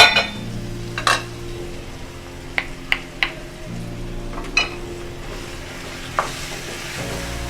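Peeled tomatoes go into sizzling chicken karahi, a loud steady fry with sharp crackles and spatter bursts plus scraping stirring sounds.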